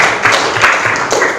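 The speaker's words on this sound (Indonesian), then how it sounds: "Kita berikan tepuk tangan dulu buat mereka ya." Brief classroom applause for students after a class presentation, a short burst of mixed clapping from a small group of pupils, fairly close and loud, with faint voices underneath.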